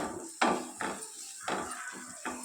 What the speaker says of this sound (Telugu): అలాగే కొంచెము కొత్తిమీర కూడా వేసుకొని బాగా కలుపుకోవాలండి